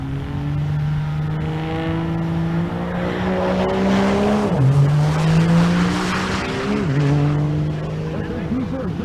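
A diesel drag-racing vehicle makes a pass with a loud, droning engine tone that climbs and then drops sharply at each gear shift, swelling as it nears and fading afterward. An announcer speaks over the engine.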